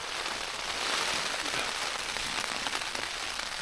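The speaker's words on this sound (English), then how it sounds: "It's been raining non-stop." Steady rain drums on a Durston X-Dome tent during a storm, a dense, close, continuous patter with no talking.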